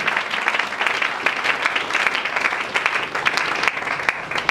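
A church congregation applauds together during a worship service, a dense, steady wash of many hands clapping at close range that lasts throughout without pause.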